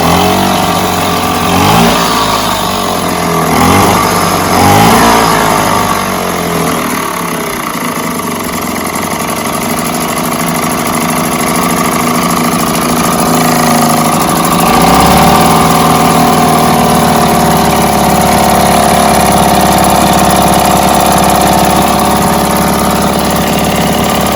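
A Mercury 3.9 kicker outboard motor with a cooling problem running steadily, loud and close, its buzzing mid-pitched drone rising with a few throttle blips early on before settling into an even idle.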